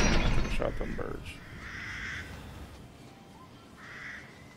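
Crows cawing in Resident Evil Village: a few short, harsh calls ring out after an opening thump and chatter, with quieter caws following farther off.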